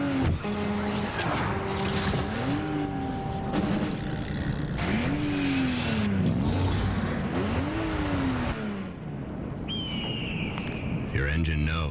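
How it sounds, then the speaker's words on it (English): A racing car engine in a motor oil advertisement revs and surges through repeated rising and falling pitch sweeps, with tire squeal and passing roars, loud and continuous over busy background sound. "Your engine knows what it wants."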